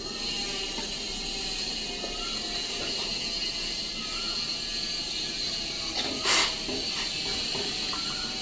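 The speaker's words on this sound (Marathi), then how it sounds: "हे बघा उकळी उकळी आले चांगलं मस्त असं" Pot of water at a rolling boil for cooking millet porridge, giving a steady broadband steam hiss with a faint mechanical rattle underneath and one brief louder burst near the end, with no talking.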